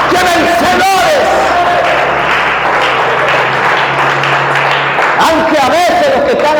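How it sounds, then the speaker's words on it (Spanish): A church congregation bursts into loud, sustained applause and cheering, dense clapping mixed with shouts and crowd noise that fills the room close-up throughout. "Den un aplauso a Dios."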